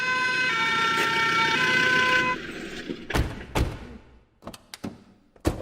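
A fire engine siren sounds as firefighters arrive, a steady loud wail that cuts off after two seconds, followed by a series of sharp knocks and clatters with gaps between them.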